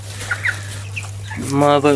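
Faint broiler chicken clucks early on, then a louder, harmonic call, likely a young rooster, rises near the end, close by over a steady low hum.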